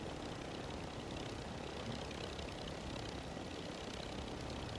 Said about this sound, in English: It's the first time I've been in a helicopter on this.